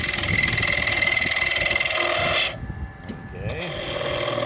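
A detail gouge cutting hardwood on a lathe while a wooden top is turned, a loud continuous rasping scrape over the machine's hum that cuts off partway through, leaving the motor running on its own.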